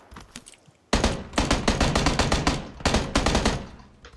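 Rapid gunfire in the battle royale game PUBG, a sudden loud burst of closely spaced shots after a quiet start, continuing in dense volleys with short breaks.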